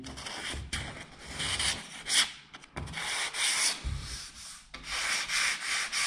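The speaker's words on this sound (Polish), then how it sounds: "Zeszlifujemy naddatek." Hand sanding of excess acrylic filler along a joint on a plaster ceiling cornice: continuous scratchy rubbing strokes in close, steady back-and-forth bursts, with no voices.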